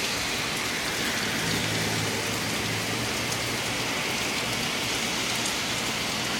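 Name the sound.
heavy rain falling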